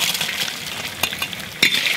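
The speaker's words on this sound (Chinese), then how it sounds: "我们先把这豆瓣酱给煸香，然后放入这个白芷、葱姜蒜、八角、桂皮，然后这一些一起炒香。" Doubanjiang bean paste is stir-fried in plenty of hot oil in a wok with angelica root, scallion, ginger, garlic, star anise and cinnamon, giving a loud, steady sizzle broken by a few sharp spatula scrapes.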